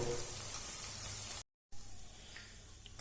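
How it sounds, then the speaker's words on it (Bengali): Paneer pieces frying in hot oil during biryani cooking give a steady broadband sizzle. The sizzle carries on with no talk and breaks for a brief silent gap partway through. "তেলটা হয়ে গেছে, এর মধ্যে আমি পনিরের টুকরোগুলোকে ছেড়ে দেব।"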